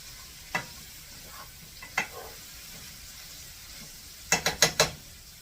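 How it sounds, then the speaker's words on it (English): Hamburger steak ingredients frying in a pan under a soft sizzle, broken by a few scattered scraping knocks of a utensil and then a quick burst of four stirring strokes. "Now we're going to get those all stirred up until everything's like cooked down a little bit and maybe browned a little bit."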